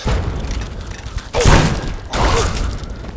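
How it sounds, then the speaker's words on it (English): A pulse grenade detonates in Fallout 3, producing a loud booming blast with a crackling, shattering tail, quickly followed by a second heavy burst. "Why am I throwing a pulse grenade? Grenades in the hole!"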